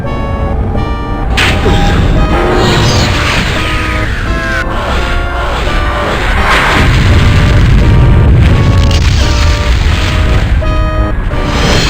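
Phaser blasts and explosions from the Star Trek: Judgment Rites PC DOS game, a loud continuous barrage of booms and bursts with rising zaps and beeping tones running throughout, no talk.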